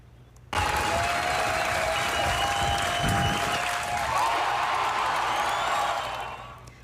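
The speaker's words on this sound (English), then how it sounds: "The crowd going wild in Bolin Stadium this afternoon." A stadium crowd at a Husker softball game in Bolin Stadium cheers and applauds loudly and steadily, with whoops rising over sustained clapping for about six seconds before it begins to fade.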